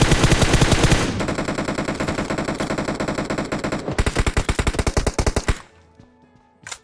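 Rapid automatic gunfire in a Free Fire-style battle royale game, loud, dense bursts for several seconds, then a sharper run of distinct shots before fading to quiet game ambience.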